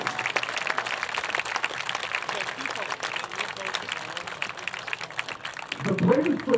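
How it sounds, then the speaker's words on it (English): Crowd clapping for the Rojas family at an FDNY Bravest football game, a steady wash of applause for several seconds, then a voice speaks at the end. "Let's have another round of applause for the Rojas family."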